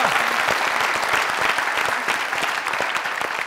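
A studio audience on the Pakistani comedy talk show Mazaq Raat claps loudly and continuously, with dense, even applause filling the whole stretch and no speech over it.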